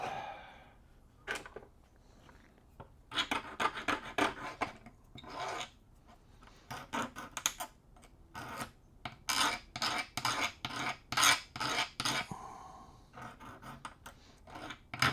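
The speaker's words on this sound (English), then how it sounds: "We'll smooth these up a little with the file." A hand file rasps across small chassis parts to smooth their edges, with irregular bursts of short scraping strokes that grow busier and more rhythmic toward the end, close and fairly quiet.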